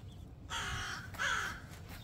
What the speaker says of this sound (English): It's hearing crows here.